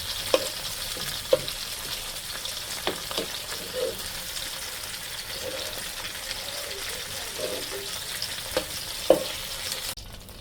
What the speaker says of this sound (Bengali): এটা হালকা ভেজে নিলাম, তাহলে ভালো লাগবে।